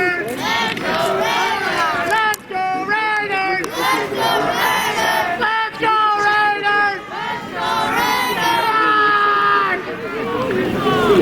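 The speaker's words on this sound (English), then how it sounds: "Very passionate crowd here under the Friday night lights of LeBears Park in Chateauguay" A passionate crowd at a Bantam AAA youth football game at LeBears Park in Chateauguay chants and cheers loudly and continuously under Friday night lights, with rhythmic shouted chants rising and falling and voices mixed in.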